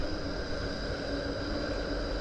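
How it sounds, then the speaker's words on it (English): A Melbourne tram on the long line running from the city out to Bundoora gives off a steady, even rumble with a broad hiss, continuous and fairly close, with no voices over it. "Let's grab this tram."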